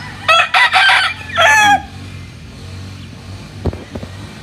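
A farm rooster crows loudly once in a drawn-out, broken call, then a few soft clucks and faint background noise follow.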